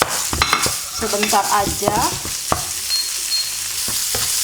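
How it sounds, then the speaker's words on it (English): Minced beef stir-fried in a pan for a brisk, broad sizzle with scraping, clattering stirs, close and steady, while a voice speaks briefly in the middle. "I'm gonna to stir fry the beef first, yeah, the minced meat, just for a little while"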